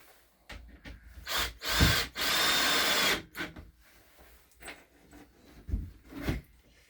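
Screws driven with a power driver into a wooden indoor barn owl nest box, 32mm screws through the back and sides; a couple of short whirring bursts with wood creaks and handling knocks between them, close by.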